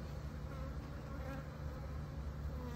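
Honey bees swarm and cluster, filling the air with a dense, steady buzzing hum that stays even and continuous from start to finish, moderately loud and close.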